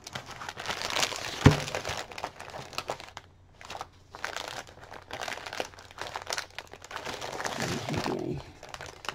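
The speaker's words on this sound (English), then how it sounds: "so we pull out the package." A plastic package holding a peacock junk journal kit crinkles and crackles close up as it is pulled out and handled, in rustling bursts with one sharp crunch early and a brief lull midway.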